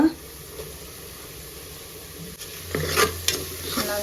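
Mint and coriander leaves frying with masala in a pot for one-pot egg biryani, a low steady sizzle with soft stirring scrapes that swell louder toward the end.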